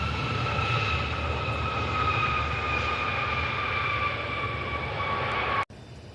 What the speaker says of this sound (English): United Airlines 621. It's a 737-800 inbound from Denver.